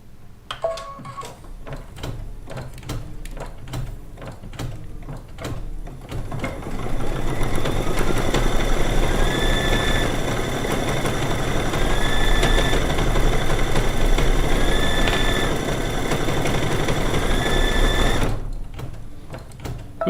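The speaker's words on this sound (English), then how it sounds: "Then we'll do our tack down stitch" An embroidery machine stitches a tack-down line on a lunch box quilt block, running at a fast, even mechanical rhythm with repeated short whirring pitch shifts. It starts and stops with a few clicks at either end.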